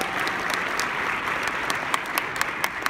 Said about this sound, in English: Shall we give all these leaders a big,